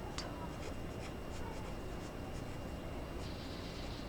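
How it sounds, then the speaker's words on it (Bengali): A pen scratches across paper during a math lesson, with soft, steady strokes and a few short taps, close and fairly quiet over a light background hiss. "এখন শুধু আমরা লিখবো"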